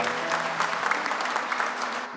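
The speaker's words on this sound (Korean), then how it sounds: "우리 박수로 환영합니다." Congregation applauding during a Sunday church service, a steady wash of clapping at moderate level with a faint sustained tone under it and no clear talk.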